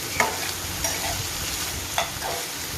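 Pieces of brinjal and potato, cut to the same size, sizzle steadily in hot tempering oil, with a few sharp scrapes and clinks of stirring rising above the constant frying hiss.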